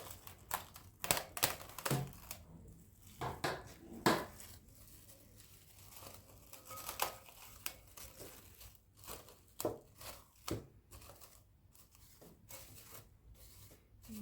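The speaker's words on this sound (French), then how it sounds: "Je vais venir recouvrir avec du film alimentaire. Vas-y, tu tires comme ça." Plastic cling film pulled and stretched over a salad bowl, with a run of sharp crinkling and tearing bursts, close and fairly quiet, no talking.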